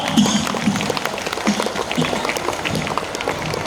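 Students and parents at a school annual day function clapping together, a continuous, fairly loud wash of applause from a large crowd with some voices mixed in.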